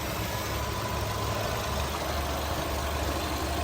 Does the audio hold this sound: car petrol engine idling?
yes